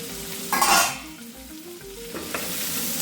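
Onion, tomato and capsicum sauté in a pan for Karnataka-style bisi bele bath, a close, steady sizzle with a brief loud flare and spatula stirring and scraping throughout.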